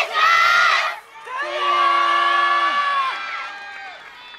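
At an outdoor yosakoi dance festival in Tochigi, the crowd bursts into a loud, short cheer, then sustained chanted shouts from many voices hold for several seconds before tapering off.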